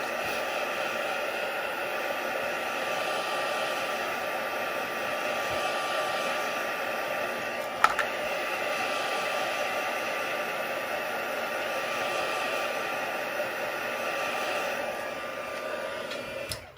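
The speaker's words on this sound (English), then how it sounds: "Let's just give this a quick dry as well. So in with your heat gun." Heat gun blowing steadily over a handmade card to dry it, a constant loud whooshing roar that holds for the whole stretch with one brief click partway through; no voices.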